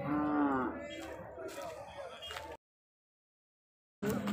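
A cow moos loudly and nearby at a cattle market in Sangola, a long low call followed by a shorter one, then silence before another brief moo.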